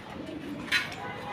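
Pigeons in a loft give a faint, brief coo over quiet background noise.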